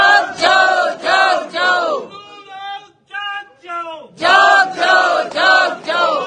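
Crowd on a street in Shimla protesting over a mosque, many voices chanting and shouting together in loud rhythmic bursts, with a brief quieter gap before the chanting returns at full strength.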